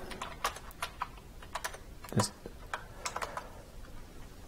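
Someone types commands into a console on a Raspberry Pi 4 keyboard, quick irregular clicks and key taps close up, with one louder knock midway.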